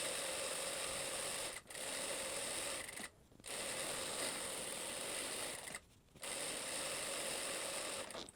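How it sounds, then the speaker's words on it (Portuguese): A sewing machine runs a loose gathering seam on a blouse, a steady close whirring chatter broken by three brief pauses, with no voices. "E aí vou fazer aqui o ponto do franzido, né? A costura do franzido."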